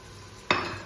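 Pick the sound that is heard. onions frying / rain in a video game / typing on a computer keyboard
onions frying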